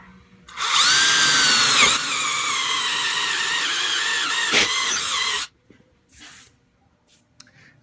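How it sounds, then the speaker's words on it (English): A power drill with a 1/2 inch bit whines loudly at high speed for about five seconds, pitch wavering as it bores through wood for a sand sled, then stops abruptly, leaving faint rustling. "Our drill here has a 1/2 inch bit"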